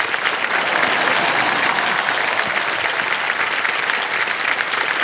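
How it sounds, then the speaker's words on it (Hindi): A studio audience at the Indian TV quiz show Kaun Banega Crorepati, season 16, applauds loudly and steadily, a dense continuous wash of clapping that holds for the whole stretch without a break. "तालियां"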